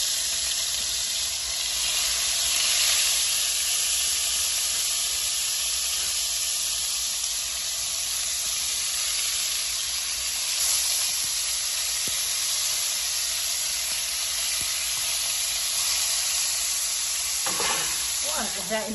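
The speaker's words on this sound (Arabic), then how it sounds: "راح نبدي نشوح الطماطم" Tomatoes frying in a pan, with a steady broad sizzle and hiss that holds at an even level throughout and scraping stirs near the end, with no talk.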